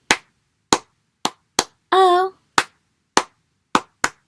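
Sharp hand claps in a steady rhythm during a children's Bingo song, eight distinct claps around a single sung vowel, close and clear.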